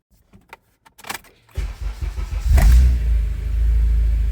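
Car engine cranks and fires up after a few faint clicks and handling sounds, then settles into a loud, steady low rumble as it idles, fitted with billet aftermarket engine mounts.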